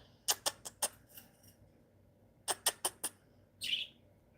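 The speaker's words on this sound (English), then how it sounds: "They're parakeets and they're brothers." Three pet parakeets, all brothers, chirp in two short bursts of quick, bright tweets, four or five notes each, followed by a brief scratchy rustle, close by and fairly quiet with no talking.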